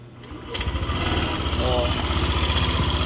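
A Yamaha NMAX V2 scooter engine cranks and catches, then settles into a steady, close, putting idle that continues to the end.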